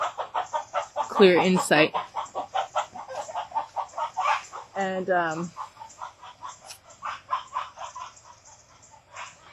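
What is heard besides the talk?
chickens clucking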